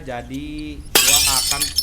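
Glass shatters in an Indonesian horror video game, a sudden loud crash breaking in right after a man's speech and ringing out briefly as his talk resumes.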